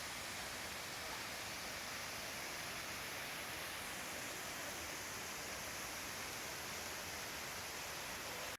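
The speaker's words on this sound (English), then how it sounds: "The Todtnau Waterfall stands tall, reaching a height of 97 meters, making it one of the highest waterfalls in Germany." The 97-metre Todtnau Waterfall in Germany roars as a constant, dense, hiss-like rush of falling water, steady and unbroken throughout with no voices.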